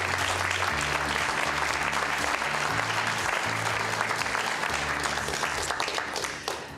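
A large audience at the Clinton Global Initiative annual meeting applauds steadily, a dense wash of clapping over a low musical hum that starts strong and tapers near the end.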